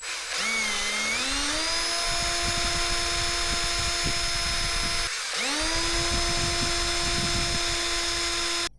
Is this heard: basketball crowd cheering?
no